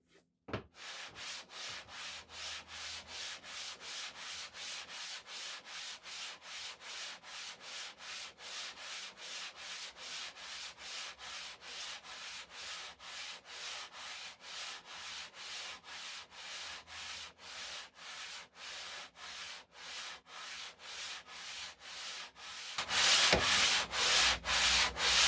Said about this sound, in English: I'm using 80 grit sandpaper.